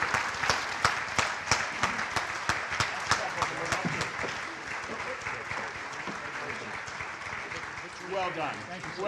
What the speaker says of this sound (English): please join me in a round of applause as Jeff comes to the stage to receive his award